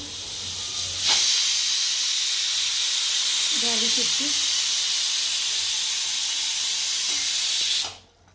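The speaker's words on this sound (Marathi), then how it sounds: "आता कुकरच्या शिट्ट्या झालेच आहेत आता शेवटची शिट्टी करते" A pressure cooker, cooking spinach and potatoes, lets off a long, loud, steady hiss of escaping steam for several seconds before it cuts off abruptly, with a brief faint voice in the middle.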